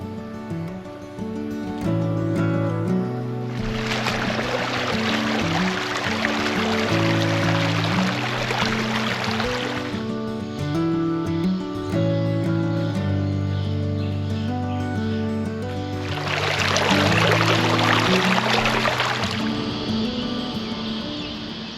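River water rushes and gurgles in two long swells near Sofala, Australia, under steady background music.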